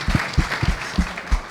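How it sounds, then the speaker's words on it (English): A short burst of clapping from a crowd, with several sharp claps standing out over a steady patter of applause. "Please give yourselves a round of applause."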